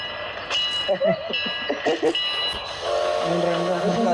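Train horns and whistles sound in bursts over rumbling rail noise at a railway station, with a long sustained horn toward the end; people talk intermittently nearby.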